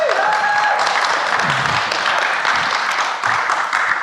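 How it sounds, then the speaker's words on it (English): A studio audience at a live recovery show claps and cheers in a steady burst for a few seconds, a full, close round of applause without talk. "Give Brian a nice round of applause."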